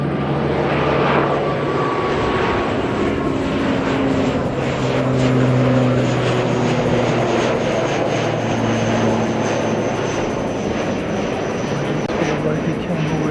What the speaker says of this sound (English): One of New Zealand's stealth aircraft.